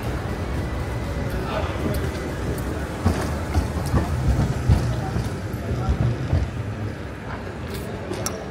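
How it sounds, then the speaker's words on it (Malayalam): A metro train passes through a shopping mall with a broad, steady rumble that swells mid-way, under a murmur of indistinct voices. "എൻ്റെ മോളിൽ കൂടെ ട്രെയിൻ പോകുന്നു"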